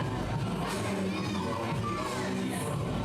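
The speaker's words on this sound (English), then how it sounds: "the crowd justifiably booing him so" A live wrestling crowd at Rage in a Cage 2025 boos wrestler Christopher Andino: a steady, dense wall of massed voices with scattered higher shouts throughout, heard from within the arena.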